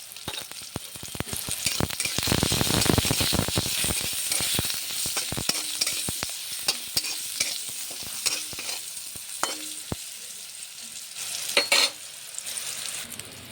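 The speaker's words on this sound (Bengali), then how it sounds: "বেগুন ভাজা হয়ে গেছে উঠিয়ে নেব" Eggplant fries in oil for a spinach and eggplant dish, giving a continuous close sizzle broken by repeated stirring scrapes and sharp clinks of a utensil against the pan, with no talking.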